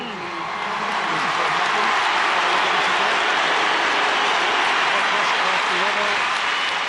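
A packed stadium crowd at the 2011 All-Ireland football final roars and applauds as Kerry's Paul Galvin comes on, a loud, continuous wash of noise with a commentator's voice faintly audible beneath.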